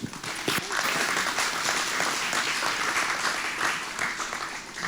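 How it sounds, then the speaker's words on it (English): An audience at a fireside chat with Pam Sessions of Hedgewood Homes breaks into steady, full applause lasting the whole moment, moderately loud with a faint voice or two underneath. "how about a round of applause for Pam?"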